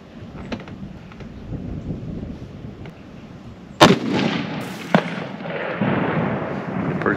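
A rifle shot is fired at a target 300 yards away across a bean field, a single sharp, loud crack midway that rolls into a long echoing boom, after quiet outdoor background.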